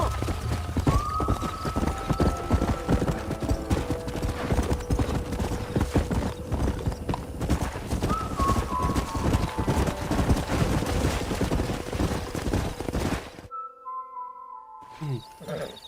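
Horse hooves clip-clop in a rapid, continuous rhythm in the video game Red Dead Redemption, loud and near, with occasional neighs and whistles over the galloping before it cuts off near the end.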